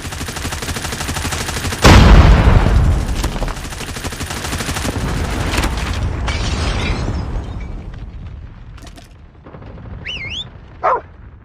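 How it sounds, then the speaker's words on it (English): A Predator missile strike in Call of Duty Mobile lands with a sudden loud explosive blast that rumbles and fades. Scattered gunfire, dog barks and whistling game effects follow at lower volume. "Hostile Predator missile inbound."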